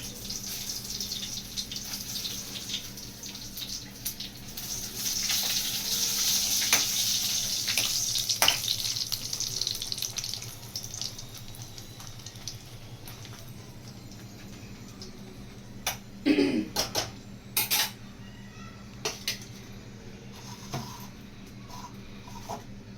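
Dried red chilies fry in hot oil in a pan with a steady, close sizzling hiss that swells and fades, followed by a few sharp clinks and clatters.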